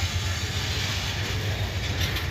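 A train rolls slowly into a rail yard track, giving a close, continuous low rumble with faint wheel clatter and a hint of squeal throughout, with no voices.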